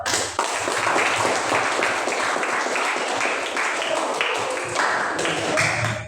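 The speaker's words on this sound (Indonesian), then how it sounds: "Oke, tepuk tangan buat sahabat." A classroom audience applauds a classmate with dense, steady clapping that holds at a fairly even level for about six seconds, with faint voices mixed in.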